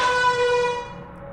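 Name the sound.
air horn in a video game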